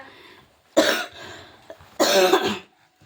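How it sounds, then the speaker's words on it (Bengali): Two separate harsh coughs from one person, close and fairly loud, spaced about a second apart with quiet between them. "এত কাশি এত কাশি"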